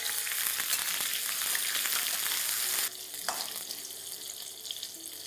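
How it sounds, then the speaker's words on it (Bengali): Eggplant strips fry in hot oil over a high flame, giving a loud, dense, close sizzle that drops to a softer, uneven crackle partway through, with no talking. "ব্যাস, ডাইরেক্টলি এটাকে আপনাদের তেলের মধ্যে দিয়ে দিতে হবে। এই সময় ফ্লেমটা আপনারা একদম হাই রাখবেন"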